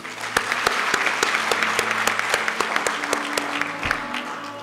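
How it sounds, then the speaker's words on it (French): Steady applause at an IPP diploma ceremony, dense clapping from a seated audience with a few sharp nearby claps standing out, continuous and moderately loud throughout. "Applaudissons-le encore, Mamadou Oumar Dia."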